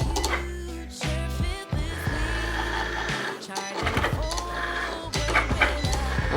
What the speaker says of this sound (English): I'm going to press the button to load the mat.